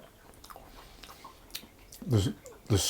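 Someone chewing a bite of chewy spiced hermit cookie bar with raisins, soft close mouth sounds that build into a few louder wet chews near the end, with no words spoken.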